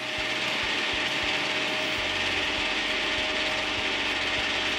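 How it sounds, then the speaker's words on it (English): A metal lathe turning down the end of a bolt, giving a steady dense whirring with a fast, rhythmic clicking underneath, close and continuous throughout. "I'll turn down the end of the bolt to match the 6mm hole that I reamed in the brass pivot."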